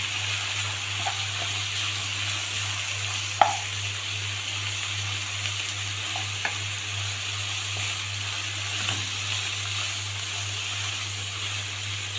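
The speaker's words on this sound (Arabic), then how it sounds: "وهنا على طول هنزل ببصل، شوية بصل حلوين كده، يعني بصلاية كبيرة. ونقلب كل ده مع بعضه." Onion frying in a pan while being stirred: a steady, soft sizzle with a low hum beneath and occasional light clicks of a utensil scraping the pan, no talking.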